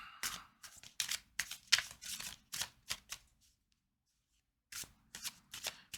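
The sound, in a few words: shuffling tarot cards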